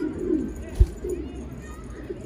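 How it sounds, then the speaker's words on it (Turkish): A caught stray Urfa pigeon gives soft low coos close by, with a brief thump partway through and someone talking over it. "Urfa kuşumuş arkadaşlar."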